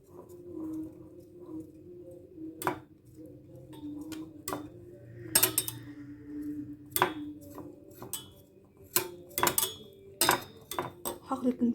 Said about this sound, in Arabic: وهقلب كل ده على البارد